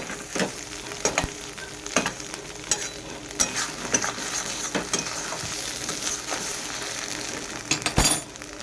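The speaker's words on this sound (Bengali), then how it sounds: "এইভাবেই ভাজতে হবে যত ভাজবে তত টেস্ট হবে শুকনো করতে হবে" Ghetkul leaves frying in a pan while being stirred, a soft continuous sizzle broken by repeated scraping strokes of the spatula, close and moderately loud, with an occasional clink near the end.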